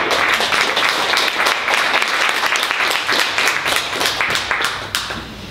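An audience at a book launch in a bookshop gives a burst of dense, sustained applause, loud and close throughout, fading slightly at the end.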